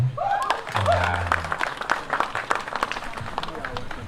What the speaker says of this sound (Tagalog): Wala naman sigurong bayad ang palakpak dito, ano?